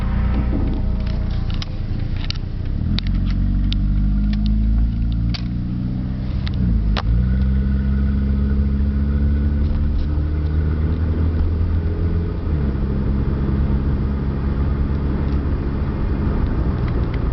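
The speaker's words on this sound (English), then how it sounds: "where I can get the car up above 30 mile an hour" A car engine hums and rises in pitch through several gear changes as the vehicle accelerates, heard steadily from inside the cabin.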